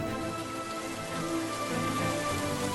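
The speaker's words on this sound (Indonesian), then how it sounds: "terus hujan besak turun." Heavy rain pours down in a dense, steady hiss of drops hitting surfaces, loud and continuous throughout with no voices.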